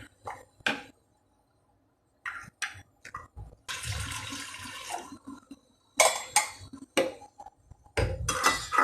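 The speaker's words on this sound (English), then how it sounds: "I'll put little more water into that tamarind" Water pours in a steady splashing stream for a couple of seconds onto tamarind in a pot, framed by sharp clinks and knocks of utensils against the pot.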